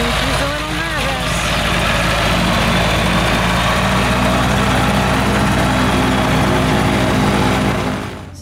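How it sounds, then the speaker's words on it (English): Revo ultralight trike engine holding a loud, steady drone through its solo takeoff run, with a brief pitch sweep near the start and a voice talking faintly underneath. "So this is Matthew on his first takeoff solo flight."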